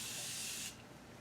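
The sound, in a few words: makeup setting spray being sprayed over the eyes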